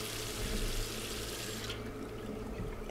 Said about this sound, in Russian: блин, это же вода у нас